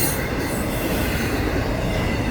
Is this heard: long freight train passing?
yes